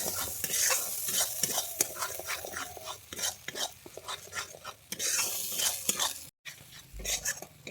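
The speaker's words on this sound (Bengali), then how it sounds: "আমি এখানে ভালোভাবে নেড়ে নিচ্ছি মশলাটা" Masala with sugar is stirred and fried in oil for a restaurant-style paneer butter masala, with repeated sharp spatula scrapes and knocks against the pan over a continuous sizzle, close and busy, with one brief dropout.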